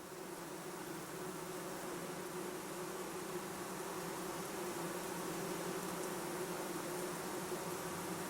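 Honey bees buzz in and around the hive, a dense, steady drone that holds at an even loudness throughout with no break and no voices.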